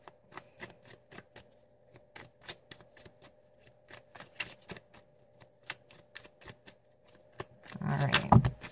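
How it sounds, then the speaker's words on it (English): Tarot cards are shuffled by hand in a quiet room, giving a long run of quick, crisp riffling snaps and light slaps that swell into a louder, denser flurry near the end. "I gotta shuffle again."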